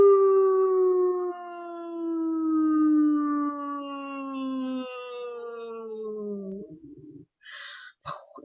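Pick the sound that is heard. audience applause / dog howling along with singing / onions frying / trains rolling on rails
dog howling along with singing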